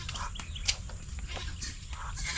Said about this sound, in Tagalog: Parang Carlos, sinusogo lang yung kambing